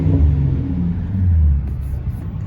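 A 2014 Mustang with a Roush axleback exhaust downshifts from second to first, a close, deep exhaust rumble that swells, then drops back to a steady low burble.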